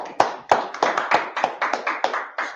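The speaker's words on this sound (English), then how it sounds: "Clap it up." Congregation clapping at a Sabbath service, a run of about nine sharp, evenly spaced hand claps in rhythm, fairly close and moderately loud.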